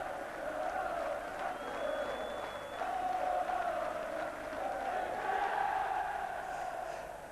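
A stadium crowd at the end of a 1995 cricket match at Lord's cheers and applauds Lancashire players on the balcony, a distant, sustained roar that swells and eases without pause.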